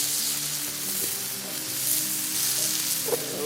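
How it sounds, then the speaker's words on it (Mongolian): Oil sizzles on a hot cooking rock over a wood fire, a bright, continuous crackling hiss with a low rumble beneath and a soft knock near the end. "Чулууга дахиад тосолж өгнө."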